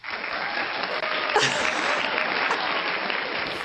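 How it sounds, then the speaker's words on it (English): Applause from an early-morning management forum audience, a short, even burst of many hands clapping together that holds steady for under four seconds with no talking over it. "That's my first round of applause at 6:16 in the morning."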